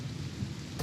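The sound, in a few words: rain and thunder in the video game Total War Warhammer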